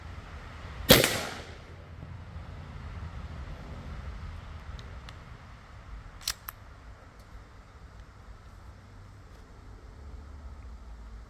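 A Seneca Double Shot big bore PCP air rifle fires one loud, sharp, close report that decays quickly, followed by a quiet steady background and a couple of faint clicks.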